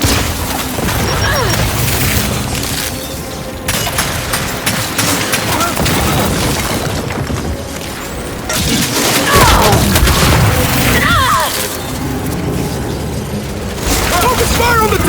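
A frag grenade explodes amid heavy gunfire in the Gears 5 video game, with booming blasts, crackling debris and rapid shots in a constant loud barrage, and shouted voices over the combat.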